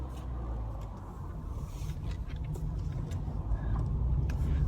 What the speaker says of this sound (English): So let's get driving and we're going to do some dual carriageways.